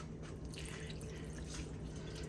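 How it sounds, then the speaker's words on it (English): Water is poured steadily around the sides of a beef roast in a pot with a bouillon cube. It makes a continuous close splashing wash with no break. "Can you pour it around the sides?"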